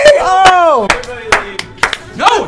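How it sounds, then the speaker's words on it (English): Hands clap several times in quick, uneven succession, loud and close, mixed in with excited voices talking over and between the claps. "we said we were doing a clap and a half and you did 2 clap"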